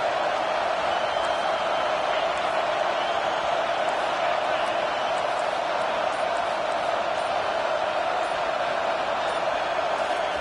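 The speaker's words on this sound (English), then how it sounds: "Decibels rising as the crowd gets behind this defense on third down." A football stadium crowd roaring behind the defense on third down during an LSU versus Texas game, a dense continuous wall of cheering and noise, loud and unbroken throughout.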